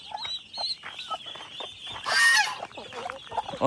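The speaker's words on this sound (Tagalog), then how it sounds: "May nanghabol akong gansa." A goose honks repeatedly and loudly nearby, a run of harsh, nasal calls that swell into a louder burst midway.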